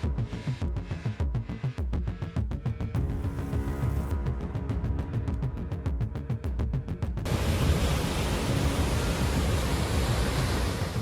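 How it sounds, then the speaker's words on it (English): Raging waterfalls thunder below an Arizona dam in a dense, roaring wash of water noise that fills the clip continuously and grows broader and heavier toward the end, with no voices. "An Arizona dam strains under raging waterfalls, thundering below a tense moment, revealing nature's raw authority."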